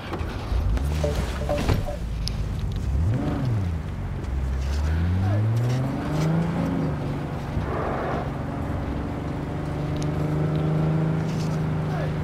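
A summoned car in the video game Cyberpunk 2077 drives up, its engine rising and falling through gear changes, then settling into a steady hum alongside game ambience and a brief voice.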